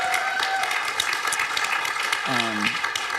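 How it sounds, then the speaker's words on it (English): An audience at a literary evening with an author applauds steadily throughout, a dense wash of clapping with a short instrumental phrase sounding midway. "Let's give them a round of applause."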